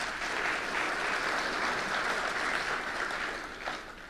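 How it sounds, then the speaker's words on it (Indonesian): Steady crowd applause fills a large hall at an Indonesian official event welcoming the president, continuous clapping at moderate level with no talk over it. "Tepuk tangan buat beliau."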